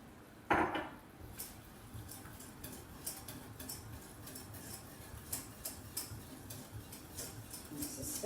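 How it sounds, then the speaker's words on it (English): A spoon stirs liquid into a lasagne sauce in a pan, making faint, irregular light clinks and taps against the metal, with one louder knock near the start. "Stirring continually so it comes back into a smooth sauce"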